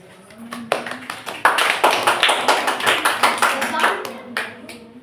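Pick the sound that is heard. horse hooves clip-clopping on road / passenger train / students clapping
students clapping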